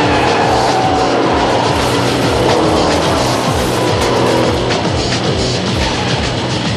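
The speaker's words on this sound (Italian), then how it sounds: "Questo semplice tocco innesca una reazione a catena di collisioni" Stock car race crash with a chain reaction of collisions: a loud, dense roar of racing engines with squealing tires and skidding, sustained throughout, with no voices.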